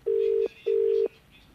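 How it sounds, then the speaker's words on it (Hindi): Two steady telephone dialing tones, each about four tenths of a second long with a short gap between, sound clearly during a call to the police commissioner, followed by a quiet background. "कमिश्नर और पुलिस को हमारी तरफ से फोन लगाने की कोशिश की जा रही है"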